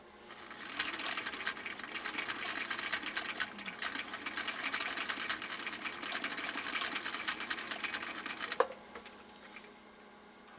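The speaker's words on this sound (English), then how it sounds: "So let's see how Nate's machine does with this." A 1959 Husqvarna Viking CI-21A sewing machine stitches through very tough material, running loud and steady with a fast mechanical chatter for about eight seconds before stopping with a sharp click, followed by near silence.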